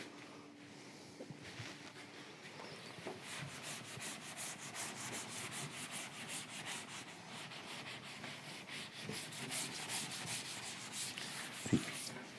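Writing being rubbed out on a lecture board, a faint continuous scrubbing and rubbing with quick back-and-forth strokes and a small knock near the end.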